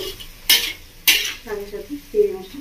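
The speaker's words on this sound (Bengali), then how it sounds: "সাথে চিংড়ি মাছটা খুব ভালো করে" Prawns are being mixed in a cooking pan with two sharp metallic scrapes of a spatula against the pan, followed by softer clattering stirs. It is short, close and fairly loud.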